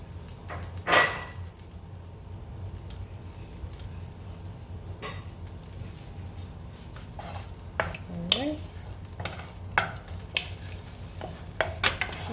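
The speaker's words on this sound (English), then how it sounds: "we're just going to go ahead and fry this egg and remove it from the pan" An egg fries in a pan for seafood fried rice, a soft sizzle beneath repeated spatula scrapes and metallic clinks against the pan, growing busier toward the end.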